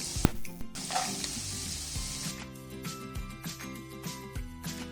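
Carrot and onion stir-fry in a hot pan for chicken fried rice, a steady sizzle broken by clattering scrapes and knocks of the spatula against the pan, close up and without talk.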